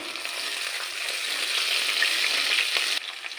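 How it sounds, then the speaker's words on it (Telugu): Curry leaves drop into hot oil with onions for a mutton boti curry, giving a loud, close, continuous crackling sizzle that swells briefly and then eases slightly. "ఇక కలమాకు వేస్తున్నా."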